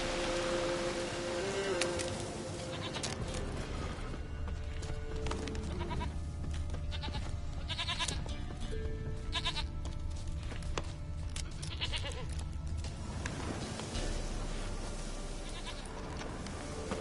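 Goat bleats in a PS4 video game, several loud, wavering calls spread through a dense, steady backdrop of game ambience.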